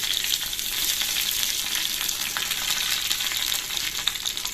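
Tempering spices of dried red chilli pieces, fenugreek and mustard seeds fry in two spoons of oil for an amla pickle, giving a loud, steady, close sizzle with light stirring throughout, without talking.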